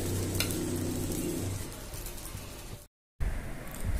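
Dosa batter for podi dosa cooking on a nonstick tawa, a steady soft sizzle with faint scraping and stirring, broken by a brief silent gap before the sizzle resumes.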